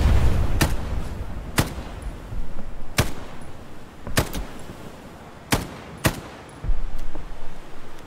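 FG42 rifle fire in the World War II shooter Hell Let Loose: about seven sharp, separate shots spaced unevenly across the span, each a crisp crack over a steady low battlefield rumble.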